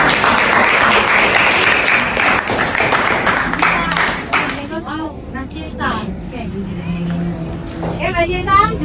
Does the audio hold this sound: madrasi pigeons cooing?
no